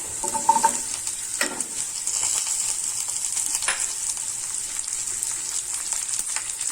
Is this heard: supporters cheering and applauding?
no